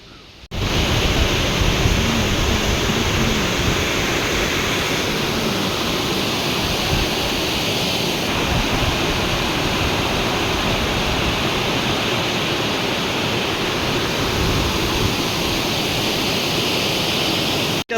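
Bariapathara Waterfall in Odisha thunders during the monsoon, a loud, dense, unbroken roar of falling water heard close and alone from start to finish.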